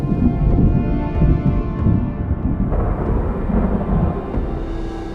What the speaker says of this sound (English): The storm moves up through the forest